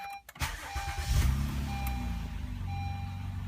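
A 2013-15 Honda Accord engine cranks briefly and catches, then settles into a steady low idle heard from inside the car, with a few electronic chimes and beeps over it.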